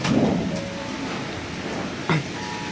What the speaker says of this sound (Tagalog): Umakalabog yung bubong, hangin, ulan.